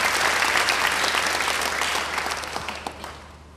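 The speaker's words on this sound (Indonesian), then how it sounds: "Beri tepuk tangan yang baik bagi Tuhan." A church congregation applauding, steady dense clapping from many hands filling the room, heard close and loud at first, then gradually thinning and fading toward the end.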